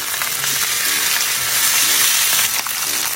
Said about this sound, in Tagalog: kaya pinirito muna ni madam